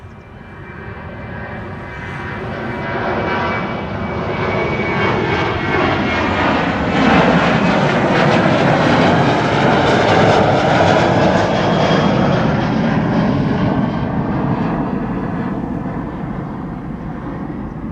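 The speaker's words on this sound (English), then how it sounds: "First up, KLM 927 to Edinburgh." KLM 927 jet departing Amsterdam Schiphol for Edinburgh on runway 24, its engine roar swelling as it nears, peaking loud and close mid-way, then slowly fading as the aircraft climbs away.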